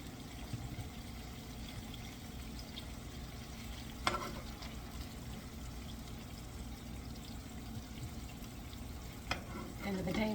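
A metal utensil stirring sausage and potatoes with hot peppers in a non-stick pan, a soft continuous sizzle with quiet scraping and two sharp clacks of metal against the pan, close and low in level, no talking.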